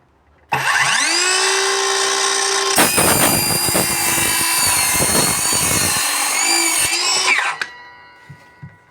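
An Einhell cordless circular saw spins up with a rising whine, then bites through material with a loud, rough buzzing for about five seconds before winding down and stopping. Brief talk follows the cut.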